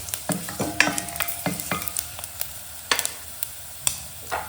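Dried turkey berries and cumin seeds frying in oil, giving a close crackling sizzle with repeated spatula scrapes and stirring knocks in an uneven rhythm, no voices.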